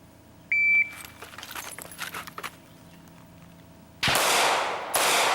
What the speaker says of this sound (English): he fired 2 rounds directly into that non-threat and neglected to get the bad guy hiding behind